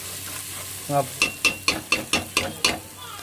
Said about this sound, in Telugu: ఆ ముక్కలు వీటిలో వేసేసి బాగా కలిపేసుకోవాలి